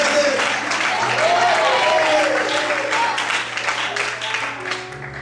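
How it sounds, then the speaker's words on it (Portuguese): Church congregation applause for the Lord continues after a sermon, steady clapping that thins toward the end while voices and sustained tones run beneath it. "Pode aplaudir o Senhor."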